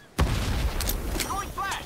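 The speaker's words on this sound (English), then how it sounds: "Throwing frag!" A frag grenade thrown and exploding in the shooter Ironsight, a single sharp blast followed by a rumbling decay, with scattered distant gunfire and in-game effects behind it.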